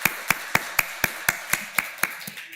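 A congregation at an Easter Sunday church service claps in a steady, evenly spaced rhythm of sharp hand claps to welcome a member, the claps fairly close and carrying over a quiet room.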